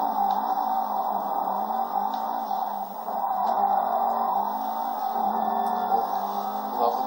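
A car drives steadily in GTA 5 with a continuous engine drone at an even, moderate pitch and small rises and dips in revs, loud and close throughout.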